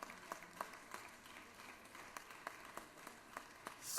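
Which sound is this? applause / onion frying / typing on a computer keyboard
applause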